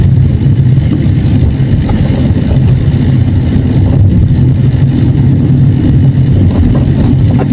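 A car drives steadily along EDSA on an open road with no traffic, its engine a constant close drone over road rumble, with no talking.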